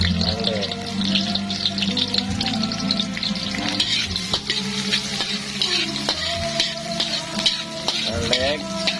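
Garlic sizzles in a hot pan while being stirred for sweet and sour crab, a continuous frying hiss with frequent utensil scrapes and clinks close by.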